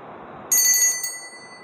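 A bell rings once as a marker during a playing-card fortune reading, a bright shimmering metallic ring that starts suddenly over faint background noise and decays within about a second.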